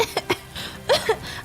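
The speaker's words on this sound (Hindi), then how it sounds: "वो बुरी तरह खांस रही" A woman coughs hard from the smoke of a clay stove burning indoors in a corner of a room; several harsh, close bursts come in quick succession with brief gaps between them.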